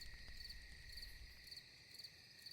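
Crickets at night in the quiet countryside of a small village give a steady, pulsing high trill in regular bursts, soft and continuous with no voices.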